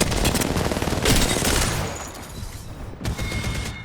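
Gunfire in the Apex Legends video game, a dense rapid automatic volley filling the first half, fading to scattered shots and a final short burst, no talk.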